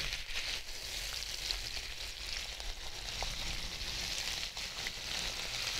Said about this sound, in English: So I'm just going to go ahead and heat up some bacon